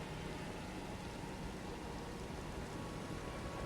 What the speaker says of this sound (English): The rain now splattering down.